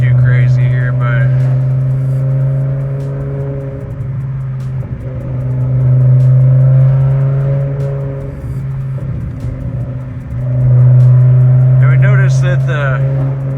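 A BMW E60 M5 V10 driven with the windows mostly down, not yet fully warm, its exhaust holding a steady burbling drone that swells twice with throttle, heard close from inside the car.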